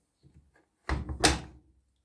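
The door of a Hotpoint WM76P washing machine swings shut with a couple of close, solid thuds and a latching clunk, preceded by faint handling noises.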